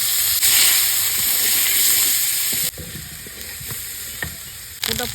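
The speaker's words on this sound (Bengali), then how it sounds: "একটু রসুন বাটা দিয়ে দিলাম" Garlic paste frying and being stirred in a pan for a village-style pumpkin dish, a loud hissing sizzle with scraping stirs that softens midway and flares up again at the end, no talking.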